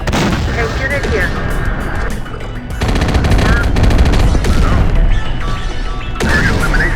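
Heavy automatic gunfire and explosive bursts rattle continuously through a chaotic battle in the video game Terminator: Dark Fate - Defiance, loud and dense across the whole stretch, with voices calling out amid the shooting.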